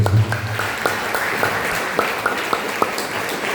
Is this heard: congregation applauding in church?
yes